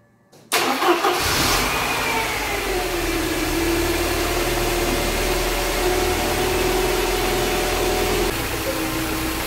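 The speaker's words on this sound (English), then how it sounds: "We start the engine" A Mercedes engine with KE-Jetronic fuel injection cranks briefly and catches after a short silence, then settles into a steady, loud idle close by, a constant mid-pitched hum that runs to the end.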